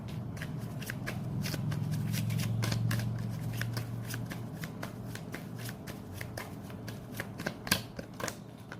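Tarot cards being shuffled, a steady run of crisp riffling snaps and flicks at close range with a low background hum, no talk over them.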